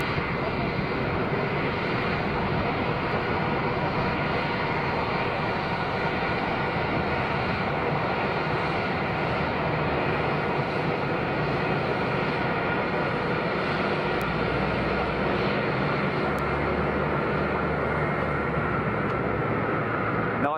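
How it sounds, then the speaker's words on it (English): A Ryanair Boeing 737 jet airliner comes in on approach to touch down, its loud, broadband engine roar holding steady and close for about twenty seconds. "Got another Ryanair 737 about to touch down."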